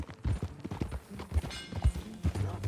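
Horse hooves clip-clopping at a steady riding pace in Red Dead Redemption 2, a rhythmic series of soft thuds fairly close, with faint ambient game sound behind and no speech.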